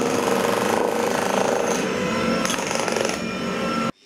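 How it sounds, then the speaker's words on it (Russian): A jackhammer pounds steadily and loudly, breaking up old building surfaces during the restoration of a neglected park pavilion, hammering without pause for about four seconds before cutting off abruptly. "Следы забвения в павильоне смывали, шлифовали, шкурили, разрушали керхером и отбойным молотком"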